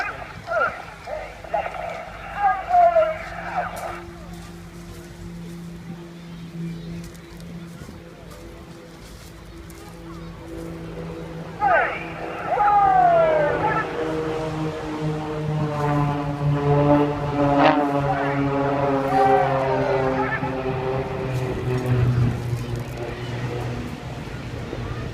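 Blades aerobatic team aircraft fly synchronised rolls at the Eastbourne airshow, a steady engine drone swelling from about halfway and staying loud, with a commentator talking throughout.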